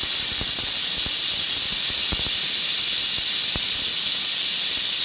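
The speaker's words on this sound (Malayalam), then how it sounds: "കുക്കറിൽ വേവിക്കുകയാണ് ചെയ്യുന്നത്." A kitchen pressure cooker releases a continuous loud, close hiss of steam, with scattered faint clicks and taps underneath, no voices.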